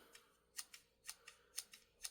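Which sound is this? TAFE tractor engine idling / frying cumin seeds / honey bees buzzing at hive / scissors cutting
scissors cutting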